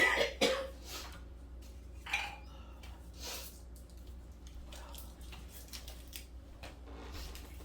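A few dry, croaky coughs close by at the start, followed by quiet breathy rustling and a couple of softer throat sounds.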